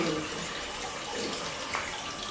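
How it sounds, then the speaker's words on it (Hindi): Water splashing and sloshing as clothes are washed by hand at home at night, a close steady wash of liquid noise over a couple of seconds with no clear speech. "और अभी मैं धो रही हूँ कपड़े।"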